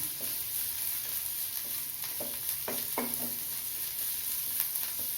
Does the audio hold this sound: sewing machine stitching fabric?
no